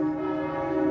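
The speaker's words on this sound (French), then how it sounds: "c'est les cloches de l'église qui résonnent" Resonant church bells ring in Paris, a sustained ringing tone with a rich shimmer of overtones, loud and steady throughout with no voices.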